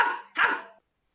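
A dog in a Czech cat fairy tale gives two loud, close barks in quick succession, the second stronger, with no talk over them before silence.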